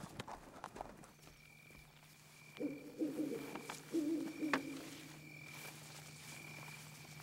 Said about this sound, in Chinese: 马蹄声会引起狗叫